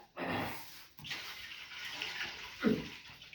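Water pours and splashes in short gushes, close by and fairly quiet, ending with a heavier slosh.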